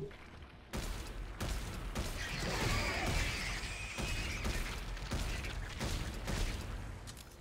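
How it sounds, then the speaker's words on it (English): Plasma cutter weapon firing in the sci-fi game Dead Space 3, heard as a loud run of repeated sharp blasts and crackling impacts over a rumbling game backdrop. "we'll get the plasma cutter out"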